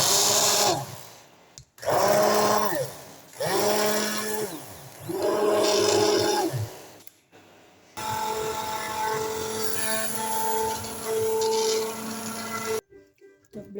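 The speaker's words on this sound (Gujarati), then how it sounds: "હવે બ્લેન્ડરમાં આપણે બ્લેન્ડર મારી લઈશું।" Blender whirring through peeled tomatoes for homemade ketchup in several loud bursts of rising pitch, paused in between, followed by a longer steady whine before it shuts off; close and with no talking.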